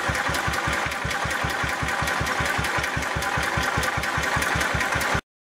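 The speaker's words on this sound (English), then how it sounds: "Idle's really slow. Been running for about 5 minutes now." A free project golf cart's engine idles very slowly and steadily, with an even, close chugging pulse of about five beats per second before it cuts off abruptly.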